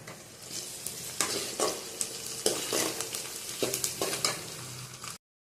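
Onions sautéing in a pan for village-style jilebi fish curry, a continuous close sizzle broken by a run of sharp stirring scrapes and clatters, no voices.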